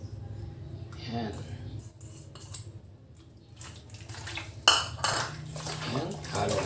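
Seasoned chicken with salt, pepper and ginger is mixed in a bowl, giving clinks of a utensil against the dish and wet, sloshing handling, close by, while a voice talks over parts of it.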